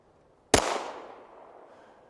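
A single gunshot fired at a target, a sharp close crack followed by a decaying echo that fades over about a second and a half.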